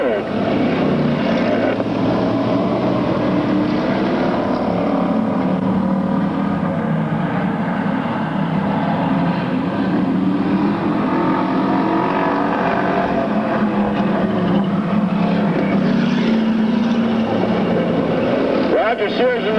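Stock cars racing, including the number 13 Oldsmobile and a Pontiac, give a steady loud roar of engines throughout, with continuous commentary talk over the noise.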